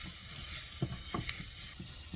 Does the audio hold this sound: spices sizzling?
yes